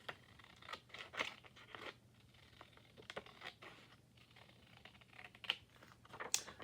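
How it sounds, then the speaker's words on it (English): Scissors snip off a thin strip of white paper trim for a gluebook, a run of quiet, close crisp cuts and light paper crunches spaced irregularly. "I think I'm going to cut off that little bit of white trim though"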